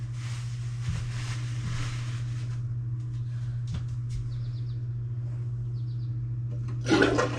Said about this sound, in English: Do a quick flush the way that you did it and just have you push quickly on it.